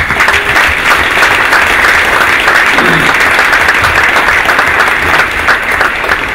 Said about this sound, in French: je vous demande de saluer par des applaudissements nourris